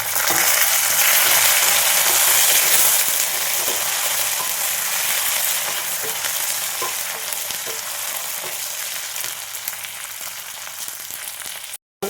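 Green chillies and curry leaves sizzling in a frying pan, a loud steady hiss with faint scraping stirs under it that eases a little over time and cuts off abruptly at the end.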